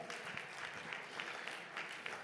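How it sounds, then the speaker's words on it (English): Audience applause at an education and entrepreneurship event in Mumbai, a dense, steady patter of many hands clapping throughout, fairly quiet and even with no voices over it. "can we have a big round of applause again for GR sir?"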